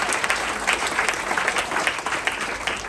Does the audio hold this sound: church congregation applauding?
yes